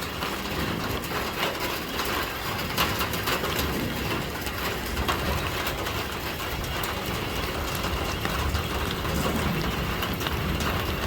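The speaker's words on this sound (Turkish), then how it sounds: "Kuzu dişi arkadaşlar dolu yağıyor dolu." Hail falling outdoors as a dense, steady hiss of countless small impacts clattering on surfaces, continuous and fairly loud throughout with no voices.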